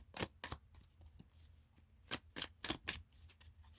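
Tarot cards being shuffled close by, a series of soft, crisp riffling bursts in an irregular rhythm, fairly quiet.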